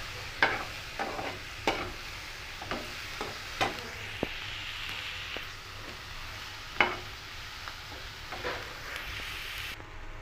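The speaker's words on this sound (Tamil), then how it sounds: "இது நல்லா வதங்கட்டும்." Ridge gourd sautés quietly in a pan for a chutney under a soft, steady sizzle, punctuated by sharp, irregular clicks and taps of a spatula against the pan.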